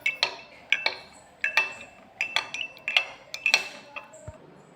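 A spoon clinks repeatedly against a glass while mosambi juice with honey is stirred, giving crisp, bright taps in an uneven rhythm, close and clear with no talk.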